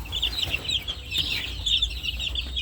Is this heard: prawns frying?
no